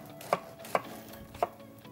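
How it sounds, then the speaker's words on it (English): Three crisp knife chops through spring onions and red onions strike a cutting board at an uneven pace, close and clear against a quiet background. "I start to cut a little bit of the spring onions and the red onions."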